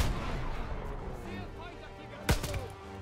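Gunfire in the video game Call of Duty: WWII, a loud single shot burst cutting through a dense battle soundscape of distant booms and rumble, with a voice talking over it.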